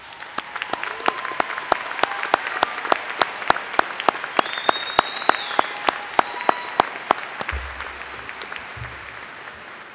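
Audience applause for cum laude students standing at the Glen Burnie High School commencement, a crisp, close run of many hands clapping with sharp individual claps standing out over a steady crowd wash.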